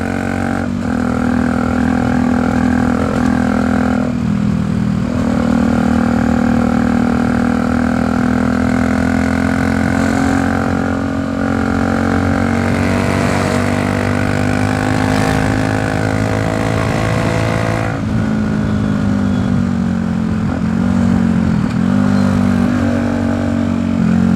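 A Bajaj Dominar 400 motorcycle rides along a highway, its engine droning loud and steady throughout with small shifts in pitch, heard close up with no talk.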